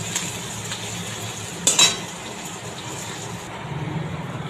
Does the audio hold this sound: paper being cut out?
no